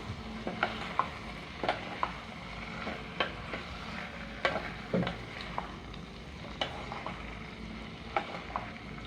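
Scattered scraping clicks and light knocks of a spoon stirring beans in a cooking pot with spices, faint and irregular, over a low steady sizzle and no voices.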